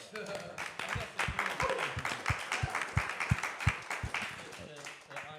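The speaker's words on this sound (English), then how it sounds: "Can we just give a round of applause to David for setting that up?" A small group claps in a zero-waste kitchen, giving a rhythmic run of distinct, fairly quiet hand claps for a few seconds while someone keeps talking over them.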